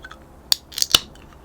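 Sharp metallic clicks and a quick hiss as a can of Battery Carnival passion fruit-guava energy drink is cracked open, a few close, crisp snaps in quick succession.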